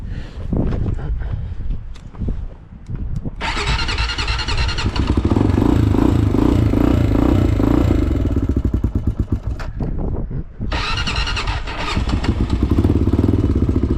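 A cold, slightly rusty Honda 400EX ATV cranks on choke for a few seconds, then catches and settles into a loud, steady, chattering idle. It briefly dips midway before running strongly again, with no talk.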